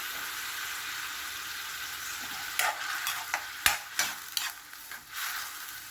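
Canned sardines in their own oil sautéing in a pan for ginisang sardines, a steady close sizzle with a few scraping stirs and clinks of a utensil toward the end.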